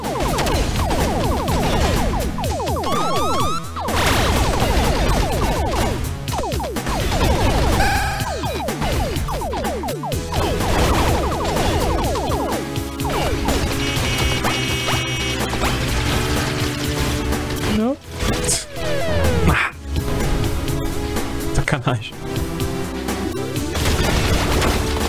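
Constant gunfire and explosions from the indie PC shooter Alien Death Mob pour out in dense, loud bursts of rapid shots, crashes and booms with barely a pause over nearly half a minute.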